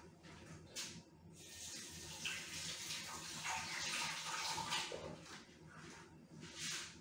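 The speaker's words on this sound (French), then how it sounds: "je me lave les mains." Hands are washed under a running kitchen tap between steps of making cheese biscuits, a close, continuous rushing splash that swells and dips as the hands move through the stream, with no talking.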